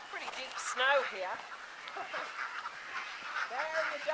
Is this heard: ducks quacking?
yes